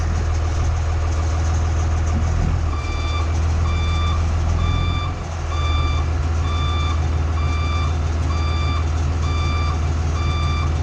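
A school bus idles with a steady low engine rumble while its reversing alarm beeps in an even, repeating rhythm throughout, close by and clear.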